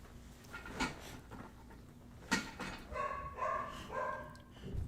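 A dog's short yips and barks come in a few scattered bursts, one sharper bark near the middle, followed by higher whining, moderately close in a quiet indoor room with no talking.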